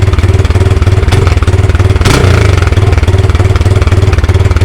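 A Honda Grom motorcycle engine idles steadily and loudly up close with an erratic idle, its fast, even pulsing running throughout, with a brief sharper clack near the middle.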